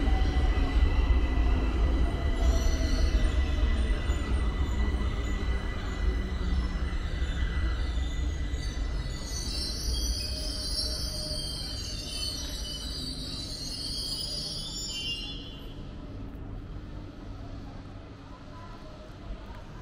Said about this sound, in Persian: این مترویی که الان اومد از سمت فرهنگسرا میاد و اینجا ایستگاه آخرشه و مسافرها رو این ایستگاه پیاده میکنه.